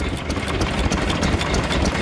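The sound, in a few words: Lister L stationary engine running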